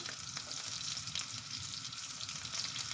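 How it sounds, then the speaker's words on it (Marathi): Garlic and green chilli sizzle steadily in hot oil for a methi bhaji, a bright continuous hiss with faint stirring scrapes, close and uninterrupted, with no voices. "तेल तापल्यामुळे लसूण कशी सुरसुर होत आहे."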